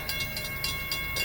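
An FEC freight train rolls past nearby, its wheels beating out a steady repeating clatter over a constant rumbling drone, with no voices.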